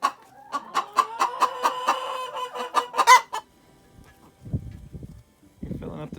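Chickens or other fowl give a rapid run of loud, close clucks and honking calls for about three seconds, followed by quiet low voices talking nearby.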